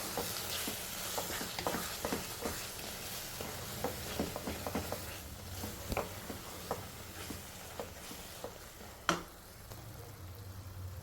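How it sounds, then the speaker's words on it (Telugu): Mango pieces stirred in a frying pan, a soft bed of sizzling broken by repeated scraping spoon strokes, with one sharper knock near the end; quiet and close. "ఇప్పుడు ఒకసారి బాగా కలిపి, సో మ్యాంగో అయితే వేగిపోయింది."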